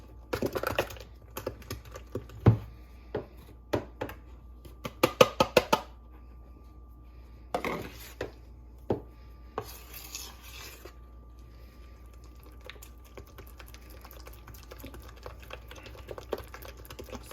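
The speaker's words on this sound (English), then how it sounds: "Mixing some bananas." Bananas being mixed and mashed in a bowl for banana bread batter: irregular light taps and clicks, loosest in the first half, then sparse and quiet over a low steady hum, with no talking.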